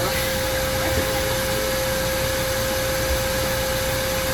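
Hair dryer blowing steadily on a dog after its bath, a constant loud broadband whoosh with a steady tonal hum, unbroken and close throughout.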